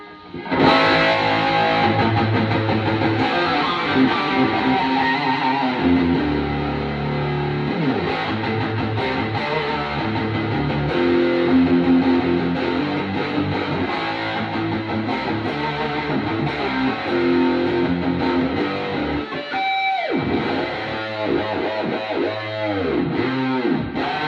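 A distorted electric guitar chugs and riffs through the drive channel of a Fender Hot Rod Deville 410 amp, thick and loud up close, ending with a few bent notes.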